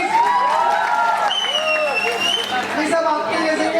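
A party crowd playing a game applauds steadily in a dense, continuous wash of clapping mixed with cheering and lively voices talking throughout.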